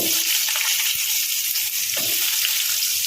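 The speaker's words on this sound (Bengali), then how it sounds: "এবং জিরে ফোড়ন দিয়ে নিচ্ছি। এবার আলুটা প্রথমে ভেজে নেব।" Steady, dense sizzle of potatoes frying in hot oil with cumin seeds and bay leaf in a home kitchen, close and continuous with a few faint clinks underneath.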